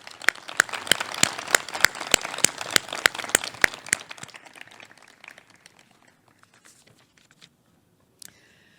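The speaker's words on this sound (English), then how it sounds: "Please give a warm round of applause for our public fellows." Scattered applause at an awards ceremony, a few sharp regular claps standing out near the microphone, thinning over about four seconds and fading to near silence, with one last faint clap.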